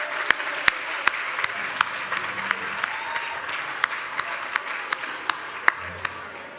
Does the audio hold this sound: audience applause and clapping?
yes